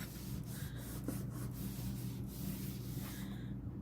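A small plastic scraper rubs and scrapes at stuck resin in short, soft strokes, a low continuous scratching that stays close and quiet with no talking.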